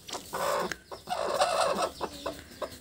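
Farm chickens cluck close by, reacting each time they are tapped, with bursts of throaty clucking and short squawks in uneven rhythm, fairly loud, and no talking.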